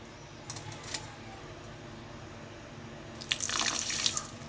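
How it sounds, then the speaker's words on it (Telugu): Water is poured into a pan of sugar to make syrup. Quiet kitchen ambience comes first, then a short burst of splashing and trickling near the end, close and fairly loud. "వాటర్ పోసుకుంటే పాకం రెడీ అయిపోతుంది"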